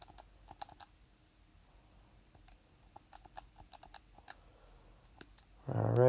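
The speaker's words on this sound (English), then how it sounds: "I'm just typing it in right now" Typing on a computer keyboard while entering figures for a statistics problem: scattered, soft key clicks in short bursts, close by and quiet, ending with a brief loud thump.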